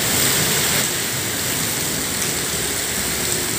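Heavy rain pours down in a dense, steady roar, loud and close, without a break and with no voices over it.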